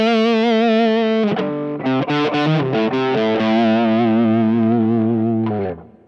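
Electric guitar lead played through the white side of a Dueling Ninjas distortion pedal, a thick, saturated run of sustained and quick picked notes ending on a long held tone that fades out.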